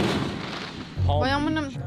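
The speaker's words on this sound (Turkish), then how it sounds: "Burada habire havai fişek patlatıyorlar" Fireworks set off near a beach in the US give a sharp, loud boom, followed by a whistling, crackling burst close by.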